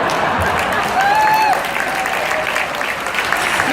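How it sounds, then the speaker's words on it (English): A large audience at a Mensa annual gathering, the 2016 event, booing a speaker on stage, a loud sustained crowd roar with a few voices rising above it throughout. "I know you're booing me"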